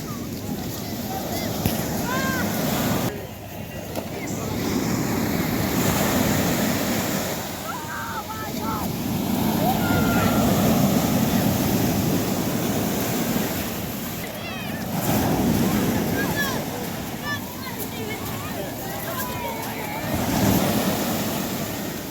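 Sea waves and surf rolling onto a beach, a continuous rushing wash that swells and recedes, with wind buffeting the microphone and faint voices now and then.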